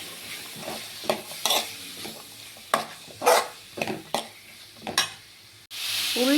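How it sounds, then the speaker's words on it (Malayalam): A spoon stirs chopped onions and green chillies frying in a pan for chicken curry, making separate scraping strokes over a soft sizzle, then a louder burst of sizzling near the end. "ഇത് നല്ലപോലെ ഇളക്കി കൊടുക്കാം."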